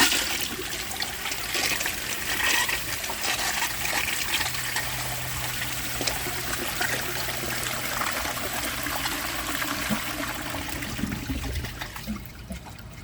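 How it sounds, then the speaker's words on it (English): A 1934 Bowers Pottery toilet flushing with a clogged siphon jet: a steady hiss of running and trickling water that holds for over ten seconds without a strong siphon gulp, then tapers off near the end. "Now let's see how it flushes with a clogged siphon jet."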